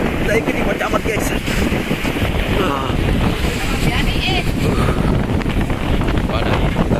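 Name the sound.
strong wind during a storm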